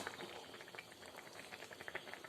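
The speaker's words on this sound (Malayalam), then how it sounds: "വെള്ളം നന്നായിട്ട് തിളച്ച് വരുന്നുണ്ട്" Water bubbles at a steady simmer in a pot of anchovy fish curry, soft pops and gurgles crowding together, faint and close with no voices.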